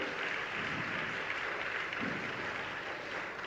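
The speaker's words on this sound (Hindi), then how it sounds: "बच्चों के उत्साह के लिए भी एक बार जोरदार तालियां बनती है।" Hearty audience applause for children at a Jain spiritual discourse gathering with Praman Sagar Ji Maharaj, a thick, continuous roar of many hands clapping steadily for several seconds, heard from within the hall.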